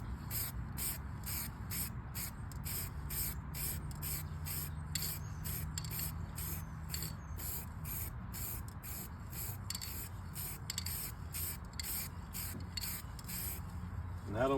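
Aerosol spray paint hissing in steady repeated short bursts onto a sanded, scratched car panel during a repair refinish, close and fairly even throughout, with no talking.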